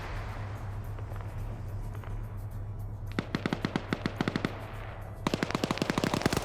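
Bursts of automatic gunfire in a military video game match, rapid rhythmic volleys of shots in two clustered sequences over steady background noise, loud and close, no talk.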